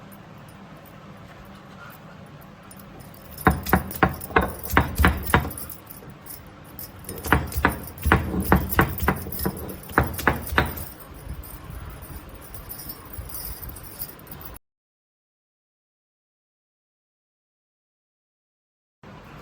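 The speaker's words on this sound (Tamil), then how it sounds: "பெருஞ்சீரகம், வரமிளகாய் வச்சு இப்போ அம்மியில் அரைச்சிக்க போகிறோம்" Fennel seeds, dried red chillies and garlic are ground on a traditional stone grinder, giving rhythmic scraping strokes in close repeated bursts before the sound drops to silence.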